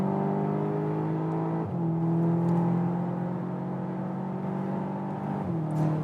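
Volkswagen Arteon R engine pulling in 7th gear, a steady close drone with a rising whir and brief dips as it shifts, heard continuously from inside the car.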